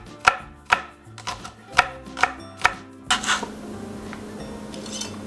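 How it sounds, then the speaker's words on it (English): A knife chops cilantro, stems included, and green onions on a cutting board with about six sharp rhythmic thuds, followed by a softer scraping rustle. "1/2 bushel of cilantro, stems and all. Go ahead and just mince that up."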